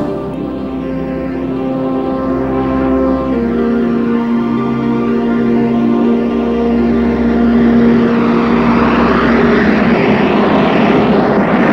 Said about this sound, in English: the hoped-for break in the clouds came, and the 747's crew decided to attempt a takeoff